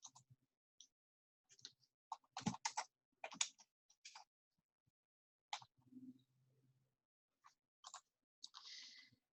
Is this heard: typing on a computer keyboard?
yes